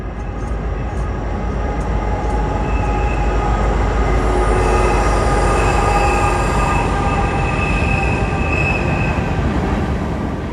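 A train runs along a railroad line beside a trailside tent site in Boiling Springs on the Appalachian Trail. It gives a loud, close, continuous rumble of rolling wagons with high wheel squeals throughout, and no voices.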